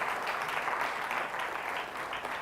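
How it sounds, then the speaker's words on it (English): An audience claps steadily throughout at a TEDx event at Nile University of Nigeria, a dense, even wash of applause filling the room with no voices over it. "Please, a round of applause for him."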